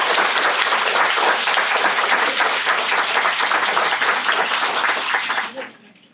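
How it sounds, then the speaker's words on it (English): An audience claps loudly and continuously after the final presentation of a university three-minute thesis competition, a dense, even burst of applause that fades out sharply near the end. "let's give everybody a really big round of applause"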